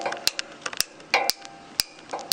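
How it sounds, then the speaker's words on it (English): A hammer strikes the rusted driveshaft end of a 2003 Toyota 4Runner V8, giving about six sharp, ringing metallic knocks at uneven intervals, close and fairly clear. "I'm gonna hit this end with the hammer so it goes"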